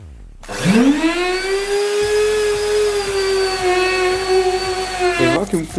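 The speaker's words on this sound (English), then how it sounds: "vacuum cleaner to remove all the water from the sofa" A wet vacuum cleaner whines steadily at close range while extracting water from a sofa, holding a high motor tone for several seconds before winding down at the end.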